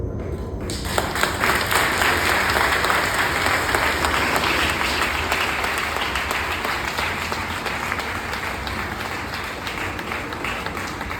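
A church congregation applauds loudly and steadily throughout, a dense wash of many hands clapping together with no talking over it, at a religious gathering.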